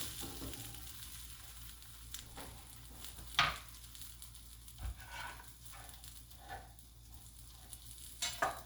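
Cheese bread fries in a pan with a soft, steady sizzle, broken by a few brief utensil taps and scrapes as it is moved, all at a quiet, close level.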